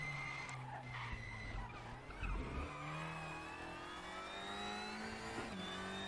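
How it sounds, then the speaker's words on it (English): A TCR race car in a sim racing game at Sonoma, braking hard into a chicane, with tyres skidding and the engine revving down through the gears, then accelerating away; no speech. "start braking for this chicane."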